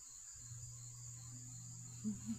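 Crickets chirp outdoors on a porch on a night in western North Carolina, a steady high trill held throughout, with a faint low hum underneath and a couple of soft short thumps near the end.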